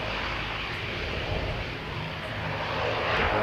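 A landing airliner at Christchurch throws its engines into reverse thrust on the runway, a steady broadband roar that holds fairly loud and swells slightly toward the end, with no voices.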